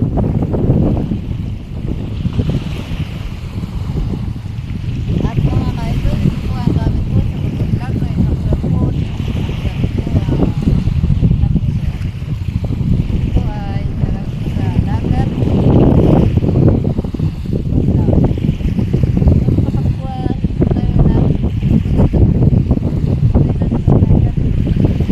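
A very small boat motors across the sea off an island beach, its engine droning with a steady low rumble under constant wind and water rush. A person talks intermittently over the noise.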